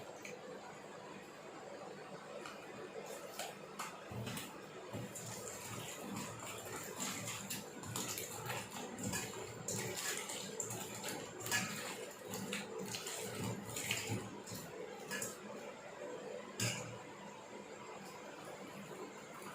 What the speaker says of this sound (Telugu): ఒక 5 బెండకాయలు నార్మల్ వాటర్తో కడగాలి